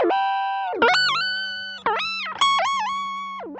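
Guitar run through an Eventide PitchFactor whammy pitch-shift effect, sustained notes sweeping and gliding up and down in pitch over several bends, with a low droning note underneath, loud and close.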